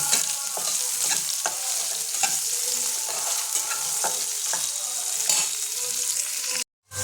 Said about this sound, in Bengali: পেঁয়াজ কুচিটা আমি হালকা লাল করে ভেজে নেব